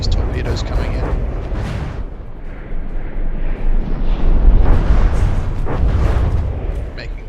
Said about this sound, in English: Another huge barrage of missiles.